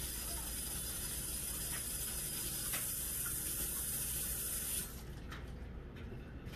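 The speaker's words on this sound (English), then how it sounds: "Let me rinse my hand off." A kitchen tap runs steadily as a floury hand is rinsed under it, a broad constant hiss of water that cuts off near the end and leaves faint drips.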